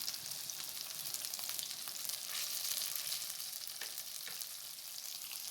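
Chicken breasts sear in a pan over medium-low heat, giving off a steady, close sizzle and crackle that holds evenly throughout, with scattered small pops and no voices.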